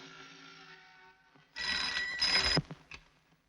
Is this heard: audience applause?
no